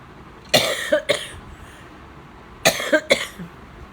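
Two clusters of harsh coughing, each a quick pair of coughs, separated by a short quiet pause; close and fairly loud.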